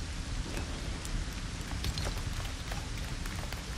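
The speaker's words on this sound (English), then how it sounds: "I can't use it in the rain" Rain falls in the video game Lego Fortnite, a dense continuous patter of droplets with scattered sharper taps throughout, steady and fairly loud with no talking.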